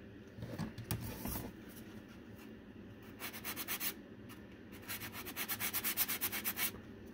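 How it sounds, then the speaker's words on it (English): A sanding sponge rubbing over a dried St. Patrick's Day craft piece in close, repeated scratchy strokes, with a few bursts at first and then a steady rhythmic run of short back-and-forth passes. "I've talked before about these sanding sponges"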